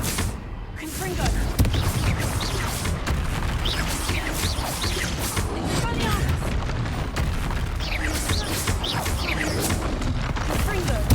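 Repeated Confringo fire-blasting spells from Hogwarts Legacy go off as booming, crackling bursts over dense game combat noise, with a voice speaking throughout.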